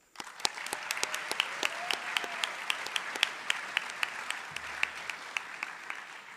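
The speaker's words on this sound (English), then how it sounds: "Please give a round of applause to this year's nominee" School audience applauding a student nominee, with sharp individual claps standing out over a steady wash of clapping that starts suddenly and carries on throughout.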